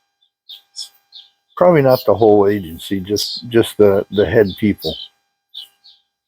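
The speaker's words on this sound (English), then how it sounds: "Bird" A few short, bright bird chirps sound before and after a stretch of close male speech, faint and scattered at the edges of the talk.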